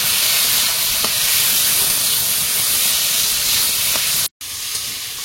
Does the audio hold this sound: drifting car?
no